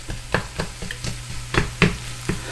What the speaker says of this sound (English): Let's just give this mix. Kind of break up the sausage a little bit.